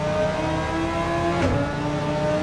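Race car engine in a sim racing game pulling out of the pits on hard tyres, with steady mid-pitched revving that climbs and shifts, loud and continuous throughout.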